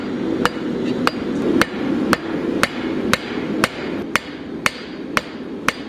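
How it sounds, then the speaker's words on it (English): A forging hammer strikes metal leaf in a steady rhythm: about eleven sharp, ringing blows roughly half a second apart over a low, continuous background rumble, with no talking. "It's a much more consistent hammer blow because you know what those edges are going to do."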